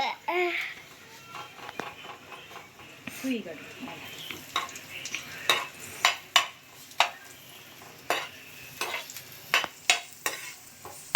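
Tamarind being roasted in a pan while chutney is cooked at home: a spoon scrapes and stirs in sharp, irregular clacks over a faint sizzle, with someone talking briefly at the start.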